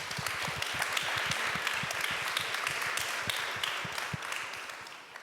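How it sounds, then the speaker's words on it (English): Audience applauding a speaker on stage at the re:publica conference, a continuous, fairly soft crackle of many hands clapping, heard at some distance and tapering slightly at the end. "Deborah, this is your round of applause."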